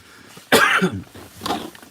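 A single harsh cough bursts out close by, followed a moment later by a shorter, softer cough.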